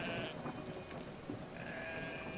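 Sheep bleating in the video game Brothers: A Tale of Two Sons, a few short bleats over steady rain-like game ambience, with no talking.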